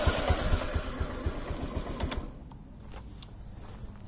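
A 2006 Honda Bite 50 JDM scooter engine idles just after a cold start, a rapid steady buzzing putter close by that settles into a quieter, smoother idle.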